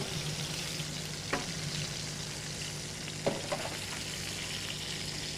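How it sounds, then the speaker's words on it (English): Pork chops sear in a hot pan with a steady close sizzle and crackle throughout, broken by a few sharp clinks of utensils. "So, there's our seared pork chops."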